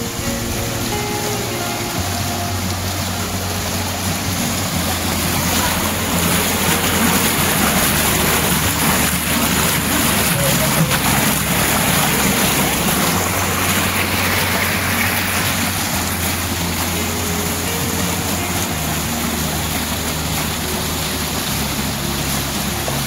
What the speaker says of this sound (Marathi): बघा पाणी कसं वाहतंय.